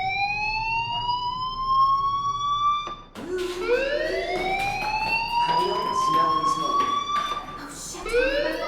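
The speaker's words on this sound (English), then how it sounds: "Hey, do you hear that fire alarm?" Shrill electronic fire alarm at the school in the game Life Is Strange, a loud continuous rising-and-falling tone that briefly cuts out before restarting and wailing on without pause.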